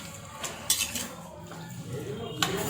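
A spoon stirring tomato thokku in a pan gives light metallic clinks and scrapes at close range, with a quiet voice talking underneath.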